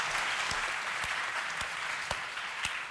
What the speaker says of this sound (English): I kind of felt like you should get a round of applause too